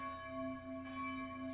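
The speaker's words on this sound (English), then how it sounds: "the church bells are still ringing loud." Church bells ring on and on in steady, sustained tones, fairly loud and unbroken, with no voices over them.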